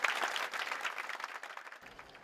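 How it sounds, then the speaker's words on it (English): An audience at a business school orientation gathering applauds to welcome the director, a dense, even round of clapping that thins out and stops near the end. "A big round of applause for sir."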